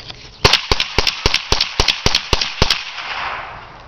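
Rapid string of about ten sharp cracks from a small .22 caliber gun, fired in quick succession at close range, each shot short and snappy, then a fading tail of ambient noise.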